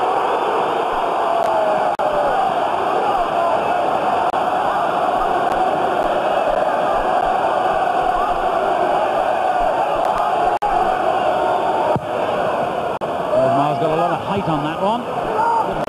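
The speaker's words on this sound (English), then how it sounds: "Crowd loved that." A football crowd at Highbury roars and cheers continuously under close commentary, a dense, sustained wash of many voices with a swell toward the end.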